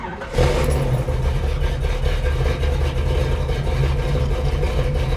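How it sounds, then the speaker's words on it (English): A Pontiac Trans Am with a 455 V8 and 4-speed catches after a brief crank and settles into a loud, rumbling, steady cold-start idle close to the microphone. "we're just gonna crank"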